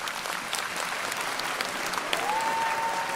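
A crowd claps steadily in a dense, continuous wash of applause during an online Pokemon TCG Pocket ranked match, with a thin whistle-like tone rising near the end.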